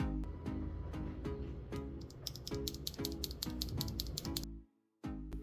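Royal Kludge RK84 mechanical keyboard with hot-swappable linear arcade yellow switches, typed on in a fast, even stream of crisp clacks with bright rattling strikes, stopping briefly near the end before a final few presses.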